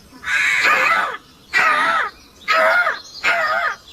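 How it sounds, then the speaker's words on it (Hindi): A crow caws four times in a steady series of harsh, loud calls, each about half a second to a second long with short gaps between, close and clear with no other sounds. "कौवा पेड़ पर बैठ के लगातार अपनी साथी को बुला रहा था"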